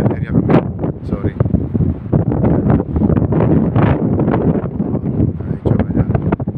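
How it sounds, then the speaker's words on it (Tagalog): Strong wind buffets the microphone aboard a chemical tanker on inland waters near Rotterdam, producing loud, continuous rumbling gusts that surge and dip throughout. "malakas ang hangin ngayon"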